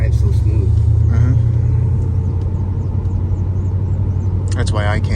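Steady low rumble of a 1979 Chevrolet Camaro Z28 with a 4-speed cruising on the road, a constant cabin drone with people talking over it.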